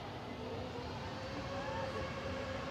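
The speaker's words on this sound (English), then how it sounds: "EasyJet departing to Tenerife South, flight 2009." An easyJet airliner departs Manchester Airport for Tenerife South, a steady distant engine roar with low rumble holding evenly throughout, faint and continuous with no voices.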